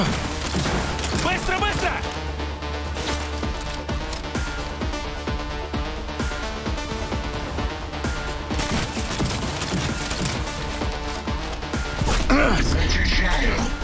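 Rapid bursts of gunfire and impacts from a video game firefight keep up a dense, steady barrage, with a voice shouting over the shooting.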